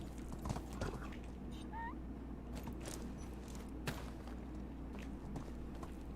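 Hooves clip-clop over a steady game ambience in the medieval village sim Medieval Dynasty, with a brief tonal cry partway through and no speech over them.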